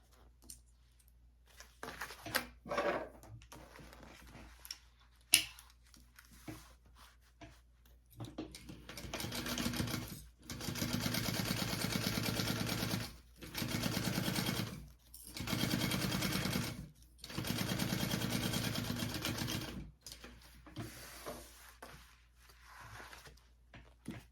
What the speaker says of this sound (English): now we're going to sew that at our full seam allowance. Flip that up and then top stitch that.